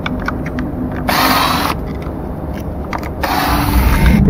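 Power screwdriver backing out screws from a self-balancing scooter, with two short whirring bursts separated by clicking and handling noise, close up with no talk.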